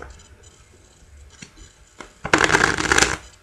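A deck of 54 Bicycle playing cards is shuffled for a magic trick: a few soft taps and flicks, then a dense, loud riffling burst near the end, close and alone.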